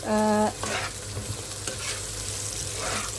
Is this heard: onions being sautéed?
yes